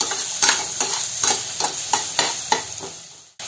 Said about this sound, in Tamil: பச்சை பட்டாணி சேர்த்து கொஞ்சம் வதக்கிக்கலாம்.